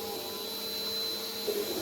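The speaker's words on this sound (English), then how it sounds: "There's a vacuum cleaner outside" A vacuum cleaner runs outdoors, heard as a steady distant whine and hum through a wall, continuous and fairly quiet throughout with no speech.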